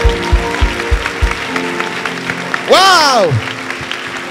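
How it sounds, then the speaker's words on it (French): Church congregation applauding in rhythmic claps at first, then a loud exclamation from a person cuts through, with talk over the clapping and crowd noise. "Acclamons le Seigneur."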